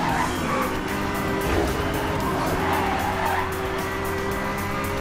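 A race car in the Need for Speed video game skids with sustained tire squeal over a steady engine roar, loud and continuous throughout.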